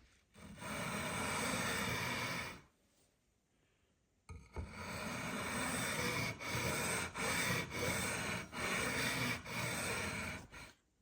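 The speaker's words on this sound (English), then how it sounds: "filing down the string paths is always best" A file rubs back and forth along the fret tops of a Squier Jaguar guitar being fitted with microtonal quarter-tone frets. The strokes are steady and close, with one long pass, a pause, then a run of repeated scrapes.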